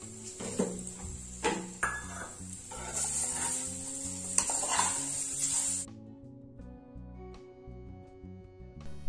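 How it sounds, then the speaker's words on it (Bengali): Freshly grated coconut being stirred and scraped in a wok for a sweet filling, a close sizzling hiss with intermittent scraping and clinking strokes that stop abruptly partway, leaving a quieter background. "কড়াইতে আমি নারকেল কোড়া দিয়ে দিয়েছি।"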